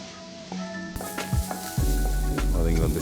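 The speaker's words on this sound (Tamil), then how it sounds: "தனியாத்தூள், ஜீரகப்பொடி இது போட்டு எல்லாத்தையும் போடுற மாதிரி வதக்கி எடுத்துக்கிறோம்." Potato with chilli powder, coriander powder and cumin powder sizzles steadily while being sautéed and stirred in a pan, with close scraping and clinking of a spoon over the continuous frying hiss.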